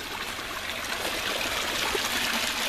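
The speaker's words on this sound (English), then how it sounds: "And I'll show you my waterfall" Water trickles steadily down a small backyard pond waterfall into a stream, a continuous close splashing babble with no voices.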